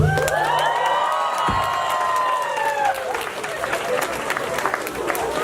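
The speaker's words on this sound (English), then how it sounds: "so come on out and give her a big cheer." An audience at a big bash speech event cheers and applauds, a broad wash of clapping and whoops that swells and continues steadily, with a few voices shouting over it.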